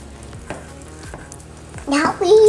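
Raisin Bran cereal being mixed into wet muffin batter, thick sloppy squelching and scraping strokes in a bowl, close and moderately loud, with a brief voice or squeak near the end.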